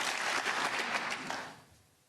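A snooker crowd at the Scottish Open applauds a century break by O'Sullivan, a short burst of warm clapping that fades away within two seconds.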